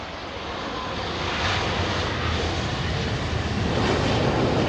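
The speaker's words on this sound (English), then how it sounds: "vacate the runway for this 350" An Airbus A350 airliner on the runway at London Heathrow gives a steady, loud broadband engine roar that builds slightly over a few seconds and holds, with no talk over it.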